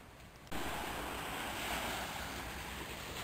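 Sea waves breaking on a beach at dawn, beside a forest shore: after a brief quiet start, a steady broadband wash of surf rolls in loudly and continuously, with some wind noise and no voices.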